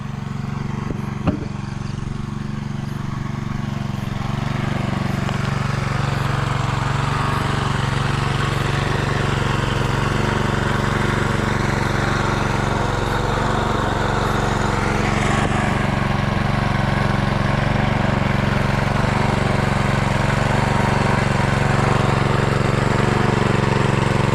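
An engine runs at a chili field during planting, holding a loud, unbroken droning roar like a lawn mower or small motor. The sound stays steady and close for the whole stretch.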